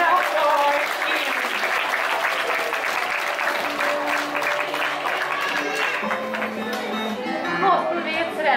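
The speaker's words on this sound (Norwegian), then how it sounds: "Gi en stor applaus til Kim." An aquarium sea lion show audience in Bergen gives a big, steady round of applause for a trainer. The loud, dense clapping fills the space and a presenter's voice carries over it.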